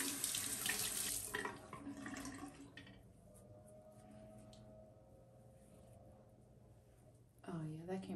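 Warm water runs from a bathroom tap to rinse off lip scrub, gushing loudly at first, then settling into a quieter steady flow before surging strongly again near the end.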